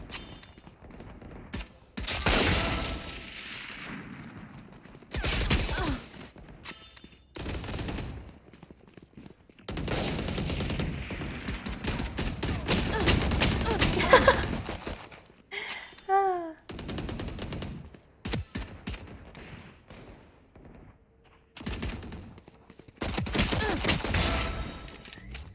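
Video game gunfire from a player's favourite weapon during a VCT watch party, with loud bursts of rapid shots in several clusters and quieter gaps between them, plus a brief wailing tone midway.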